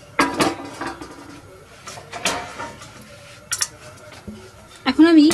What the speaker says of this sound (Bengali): এখন আমি একটি ঢাকনা দিয়ে তরকারিটাকে ঢেকে দিচ্ছি।